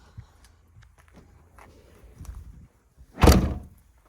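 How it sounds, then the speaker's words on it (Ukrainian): The rear hatch of a 2013 Opel Vivaro passenger van with a 2.0 engine is closed: faint footsteps and handling noises, then a single firm thud as the hatch shuts. "Ляда закривається добре, нічого не гупає."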